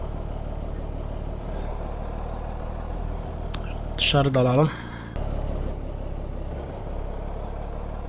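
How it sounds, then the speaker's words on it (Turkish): An in-game truck engine from a BMC mod in Live for Speed idles with a low, steady rumble throughout, while a person talks over it and a brief sharp tone cuts in midway. "Şurada motor sesini kısayım iki tık."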